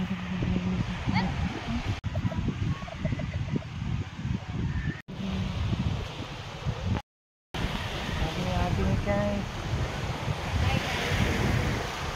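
Steady wind roars and buffets across the shore by a sea wall, with surf washing underneath and a few brief dropouts; a voice murmurs faintly in the background.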